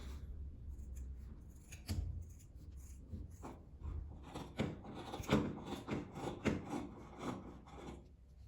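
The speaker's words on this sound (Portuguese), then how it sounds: "agora é só cortar o tecido." Scissors cutting fabric for a beret: repeated close snipping and rasping crunches in an uneven rhythm, growing denser toward the end, with no talk.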